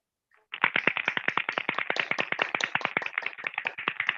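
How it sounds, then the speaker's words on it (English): Clapping at a virtual Toastmasters club meeting held online, a close, dense burst of rapid hand claps that starts abruptly and keeps going, with no talk over it. "Please, give a sounding round of applause to Toastmaster Okwayemi Murakiyo"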